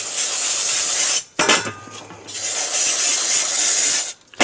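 Cleaner sprayed onto disc brake caliper parts from a Chevy Equinox, a loud close hiss in two long bursts separated by a brief pause, with no talking.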